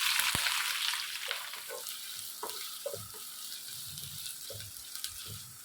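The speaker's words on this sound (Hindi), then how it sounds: "ऑयल जब गर्म हो जाए 2 मीडियम साइज़ के प्याज को लाइट ब्राउन कर" Two medium onions fry in half a cup of hot oil for a mutton pulao, giving a dense, steady sizzle with occasional soft stirring knocks and scrapes, close and continuous throughout.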